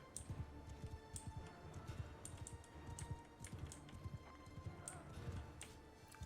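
Horses gallop in a Mount & Blade II: Bannerlord battle, with a rapid, continuous clatter of hooves and sharp clicks amid the noise of combat, fairly quiet and sustained throughout.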